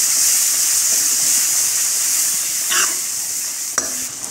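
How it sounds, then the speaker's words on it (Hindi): Onions with ginger-garlic paste fry in a kadhai, giving a steady close sizzling hiss broken by a couple of short scraping stirs near the end. "अब प्याज के साथ हम इसे भूनते रहेंगे बढ़िया तरीके से"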